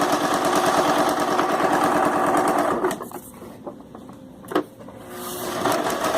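A sewing machine stitches slippery skirt lining fabric, its rapid steady whirring loud and continuous for about three seconds, then dropping away into quieter gaps with brief bursts of stitching and a final resumption.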